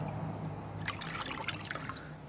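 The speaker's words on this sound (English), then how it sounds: "I want to make sure water is going to seep out the bottom." Water trickles and drips from the bottom of a saturated pot holding a freshly planted bare-root apple tree, a faint, close patter of small drops that starts partway in.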